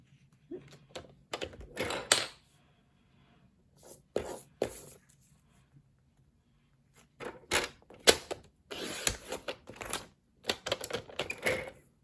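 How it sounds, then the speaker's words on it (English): Paper trimmer slicing a strip of cardstock for a handmade card, a series of sharp clicking and scraping strokes in two clustered bursts separated by a quiet pause, close and crisp with no talking. "Let me get my paper trimmer, and I'm going to cut a piece that's 4 inches by 3/4 of an inch."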